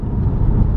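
A car heard from inside as it drives, giving a loud, steady low rumble of engine and road noise for a brief moment, with no talk.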